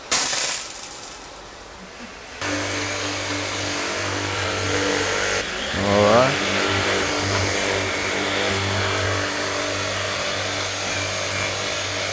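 A Makita 18V battery-powered cordless pressure washer switches on after a quieter opening and then hums steadily and close, a constant motor whine. A voice speaks briefly partway through.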